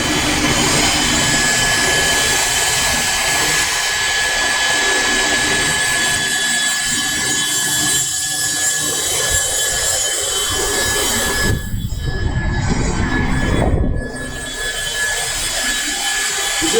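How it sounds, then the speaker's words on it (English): At an Extrema Ratio knife factory in Prato, Italy, a grinding machine whines steadily and loudly as a worker removes the barrel's attachment points from a knife by hand, with a harsher rasping surge near the end amid workshop noise. "the guy remove by hand with this grinding machine"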